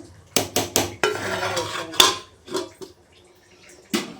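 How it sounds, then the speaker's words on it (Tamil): Chicken biryani rice being turned in a metal pot, a run of loud clanking scrapes and knocks from the spoon against the pot, then quieter gaps and a final scrape. "ஒரு கிண்டு அப்படியே கிண்டி விடணும். அரிசி உடையாமல் கிண்டி விட்டு"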